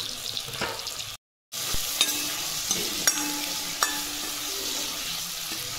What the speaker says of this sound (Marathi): टोमॅटो परतून घ्यायचा थोडा मीठ टाकून